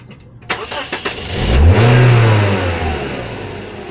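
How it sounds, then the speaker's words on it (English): A car engine cranks with a few rapid starter bursts, catches, then revs up to a loud rising roar that holds briefly and falls back toward idle, close to the microphone. "let me start this car"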